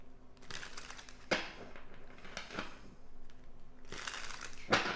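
Tarot cards being shuffled during a pick-a-card reading, giving close, papery riffling and crinkling with sharp flicks at intervals over a steady hum, no talk.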